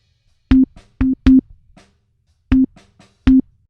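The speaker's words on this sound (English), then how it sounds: "Now, obviously, it's just playing a sine wave, which is not what we want." A plain sine-wave tone triggered from MIDI notes in Logic sounds as five short, steady beeps at one pitch, with two close together, then one, a pause, and two more, loud and clean.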